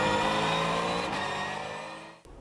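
A Porsche Cup race car in qualifying is heard as a loud, sustained engine howl that slowly fades and drops in pitch, then cuts off briefly and returns faintly.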